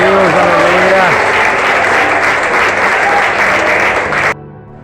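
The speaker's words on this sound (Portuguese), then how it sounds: "Aplauda Ele porque Ele é digno." Church congregation applauding during a Sunday worship service, a loud, dense, sustained clapping with voices mixed in, ending abruptly near the close.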